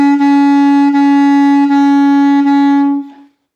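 Bass clarinet holding one steady low note, tongued against the reed at a slow even pulse so each articulation breaks the tone with a brief dip, played solo and close, ending with a short fade.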